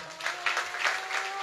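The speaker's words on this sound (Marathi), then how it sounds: "यांच्यासाठी एकदा टाळ्या वाजवा." A short burst of audience clapping at a Marathi kirtan, a moderately loud, scattered patter of many hands that continues evenly without voices.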